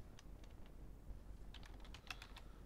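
Computer keyboard typing as a folder name is entered on a desktop, a few scattered keystrokes and then a quick close burst of clicks, light and crisp with no voices.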